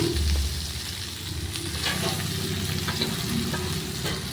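Chunks of potato and eggplant fry in hot oil with a dense, continuous sizzle, while a spatula stirs them with soft, close scraping sounds.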